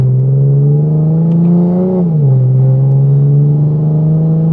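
A MK5 Toyota Supra fitted with a custom MK4 Supra exhaust holds a loud, smooth, steady drone close by, rising briefly in a short rev and then dropping back to an even hum.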